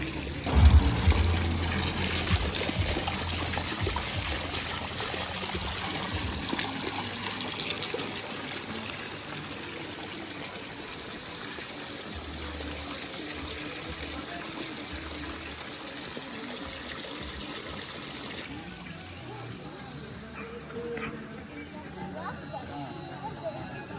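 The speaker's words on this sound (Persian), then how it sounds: "اینم از آبشار آبپری، یعنی همین قدرش مونده." Steady broadband rush of water flowing at Abpari waterfall in Iran, a continuous wash of spray and splashing that stays even in level, softening slightly near the end.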